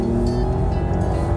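A 2018 Mercedes-Benz S-Class cruises at about 100 km/h on a test track, giving a steady, loud low road-and-engine drone with no breaks.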